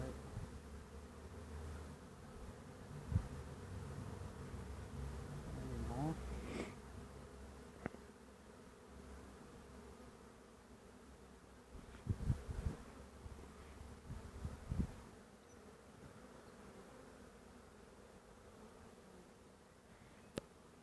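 Honey bee swarm buzzing steadily as half of a wild hive is removed by a beekeeper, a dense continuous drone with scattered louder close passes and brief handling bumps, no talk.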